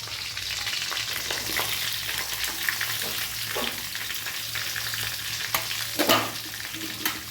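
Chili and onion fry in hot oil in a pan, making a close, steady sizzle with occasional stirring scrapes and a few louder spatters toward the end.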